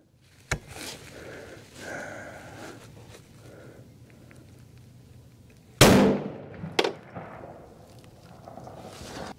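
A single loud .30-06 rifle shot cracks at an outdoor farm range, a sharp close blast with a brief decaying echo, preceded by a smaller click and followed by a second faint knock.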